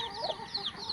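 Backyard chickens in a rural Philippine province, a hen with week-old chicks being fed, cluck repeatedly in short, overlapping calls, close and moderately loud.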